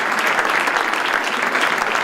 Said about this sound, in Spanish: Todos ellos han recibido a Felipe VI con un sonoro aplauso.